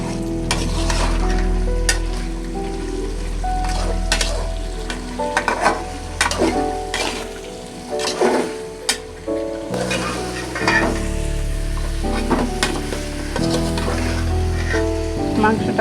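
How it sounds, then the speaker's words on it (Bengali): Beef is stirred and fried with spices in a pan for a Bengali beef curry, giving a steady sizzle broken by scraping stirs, with music playing underneath throughout. "ভালো করে নেড়ে চেড়ে দেবেন যেন মশলাটা সব জায়গায় ভালোভাবে মিশে যায়।"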